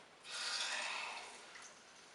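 Water rushes from a plumbing supply tap just opened, a steady hiss that swells quickly, holds, then eases slightly as air is purged from the line, close by and with no talk over it.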